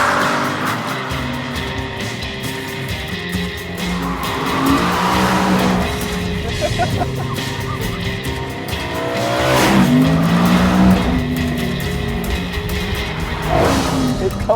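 BMW M3 E92 engine revving hard on a race track, rising and falling through high revs in loud repeated sweeps, with tires squealing in places as the car is driven.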